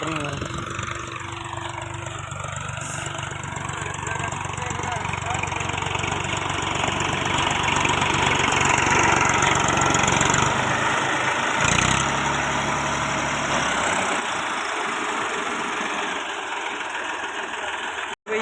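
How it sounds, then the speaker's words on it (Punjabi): A tractor engine runs in a field during sowing of moong beans, a loud, steady mid-pitched drone that holds for most of the stretch before dropping away and cutting off abruptly at the end. "ਹੁਣ ਟਰੈਕਟਰ ਆ ਜਿਹੜਾ ਵਾਪਸ ਆ ਰਿਹਾਗਾ"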